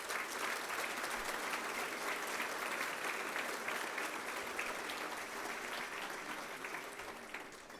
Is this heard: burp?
no